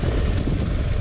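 A BMW GS motorcycle engine roars under throttle, a loud, dense, steady low rumble up close for the whole second.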